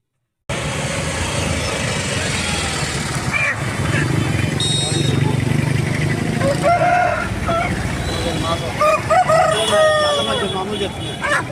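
Roosters crow repeatedly at a busy village market selling country chickens, loud and close, with clucking, voices and passing vehicles mixed in around them.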